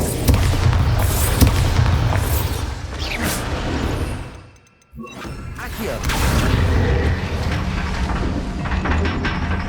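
A Bombarda spell explodes in the Hogwarts Legacy video game as a loud, booming blast with rumbling, mechanical debris noise. It drops away briefly midway, then another heavy roar of destruction follows.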